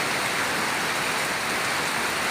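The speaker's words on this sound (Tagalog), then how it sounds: "ang lakas ng ulan" Heavy rain pours down steadily at home, a dense, loud, unbroken hiss of drops with no voices over it.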